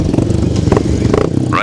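500cc sidecar racing outfits roar at the 2007 High Easter grasstrack meeting, a dense, loud, continuous engine drone with a voice faintly audible underneath.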